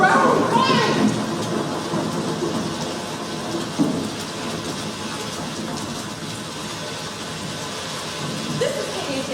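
Rain pours steadily during a thunderstorm encountered on a flight toward Rangoon, with a dull thunder thump partway through and voices speaking over the storm.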